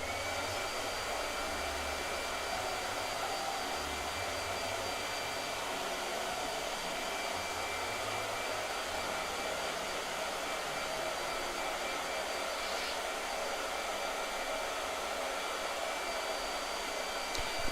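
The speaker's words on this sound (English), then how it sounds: "it's just a regular blow dryer" A regular hair dryer on its hottest setting blows steadily to dry gouache paint, a constant even whir with no talking.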